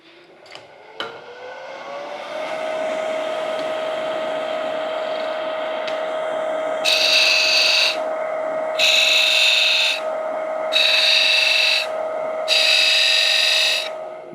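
A wood lathe spins with a steady whine as a pointed tool scores small grooves into the wood at one-inch spacing, four short bright cutting bursts following one another.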